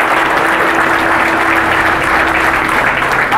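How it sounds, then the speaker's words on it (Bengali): Steady, dense applause from a classroom audience of coaching students at a police-exam academy, loud and continuous throughout with no pauses. "বিদেশ জোর হাততালি দাও"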